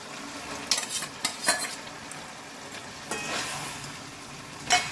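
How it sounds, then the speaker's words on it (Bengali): Fish pieces go into a pot of boiling curry, giving a low bubbling sizzle. A few sharp clinks and scrapes of a utensil rise above it. "ঝোলটা ভালো করে ফুটে গেছে, আমি এখন মাছগুলো দিয়ে দিলাম"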